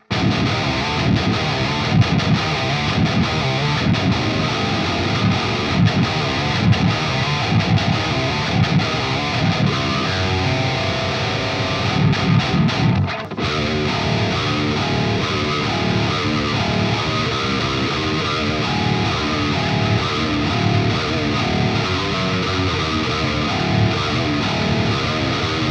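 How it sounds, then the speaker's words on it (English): An Ormsby HypeGTR eight-string electric guitar on its bridge pickup plays a heavily distorted metal tone: dense, loud chugging riffs that continue almost unbroken, with one brief pause midway. "we're gonna start with the bridge pickup for a distorted metal tone"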